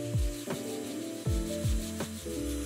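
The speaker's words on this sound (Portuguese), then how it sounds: "E o teste rápido que eu fiz com ela foi de lixar uma madeira." A small electric screwdriver fitted with a sanding attachment rubs across a piece of wood, its motor whirring steadily while the abrasive rasps in a few separate strokes, close and moderately loud.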